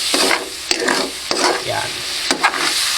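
A spatula scrapes and stirs pork around a frying pan with bagoong in the making, with repeated sharp scraping strokes against the pan over a close, crackling sizzle.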